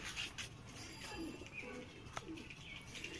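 Soft cooing of Madrasi pigeons in a loft, a low, steady murmur with a faint chirp here and there; no talking.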